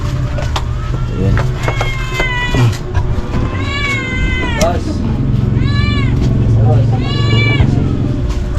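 A caged pet cat meows repeatedly and loudly nearby, giving several drawn-out, wavering cries in a row, with people talking in the background.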